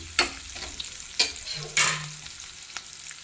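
Curry leaves dropped into hot oil for a Chennai-style sambar, a soft sizzle with a few sharp crackling pops and a brief scrape of stirring, heard close and quiet.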